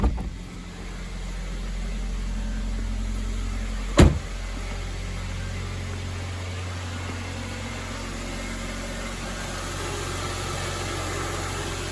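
Steady low rumble of a Suzuki SX4 AWD engine idling for the whole stretch after a clutch replacement, with one sharp click partway through and no talking.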